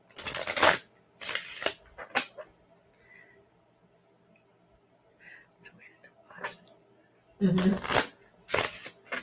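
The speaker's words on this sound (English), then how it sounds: "I'm going to shuffle till you feel like it's done" Tarot cards being shuffled by hand for a reading, with bursts of riffling and flicking at the start and again near the end, quiet stretches between, and a brief murmur of speech.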